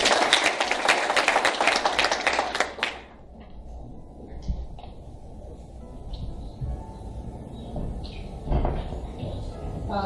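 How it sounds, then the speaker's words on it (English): A burst of enthusiastic clapping for about three seconds at a moot court competition opening ceremony, then it stops abruptly, leaving a quiet room with a few faint bumps. "A round of applause, please."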